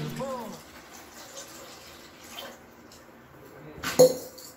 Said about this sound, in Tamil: ஃபர்ஸ்ட் அந்த தண்ணி ஊற்றிப்போம் தேவையான அளவு.